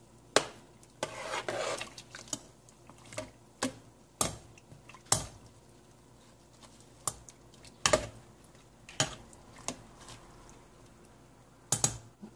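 A spoon stirs white onions in a soup pot for fish-head sinigang, giving sharp, irregular clinks and scrapes against the pot, close and clear, with quiet simmering between strokes.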